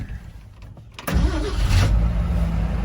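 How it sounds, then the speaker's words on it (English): A 1962 Ford F-250 Unibody pickup truck engine cranks briefly, catches and settles into a loud, steady idle close by. "I'm going to start the truck up so you guys can hear it run."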